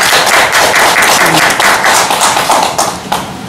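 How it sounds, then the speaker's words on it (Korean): An audience at a local civic debate forum claps loudly and continuously for several seconds, a dense close patter of many hands that fades slightly at the end, with no talking. "네, 여러분 박수로 모시겠습니다."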